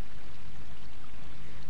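Rain pours down in a scene from the 1991 Hindi film Hairaan, a steady, even hiss of falling water with a low hum and no distinct drops.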